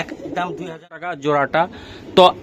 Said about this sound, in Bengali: এই জোড়াটা দর্শক যে গুলো আমরা উড়াচ্ছি কিছু কবুতর আজকে আমরা দেখাবো